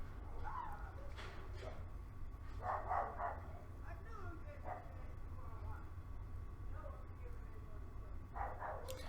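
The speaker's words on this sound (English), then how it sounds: "I hear that dog bark at people and snarl" Somewhere in the room a dog gives a few short, scattered barks and yips, faint and fairly distant, under ongoing talk.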